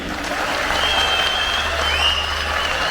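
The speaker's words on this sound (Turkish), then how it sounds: "mesaj alındıysa bir alkış alabilir miyim?" An audience at a Çankırı regional cultural night in Turkey bursts into dense, steady applause, a loud continuous wash of many hands clapping with a few faint whistles, no voices over it.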